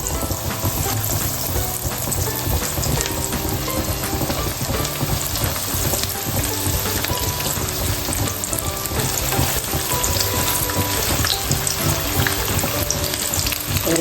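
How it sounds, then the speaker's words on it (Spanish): Stuffed Sicilian potatoes fry in hot oil, producing a loud, continuous, dense crackling sizzle that holds steady and close throughout. "Doramos bien como las otras"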